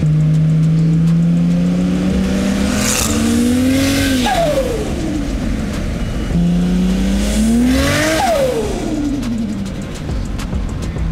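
A Holden VL Turbo with changed exhaust pipes revs close by, its engine note climbing twice in long rising sweeps before dropping back, each rev ending in a raspy exhaust burble.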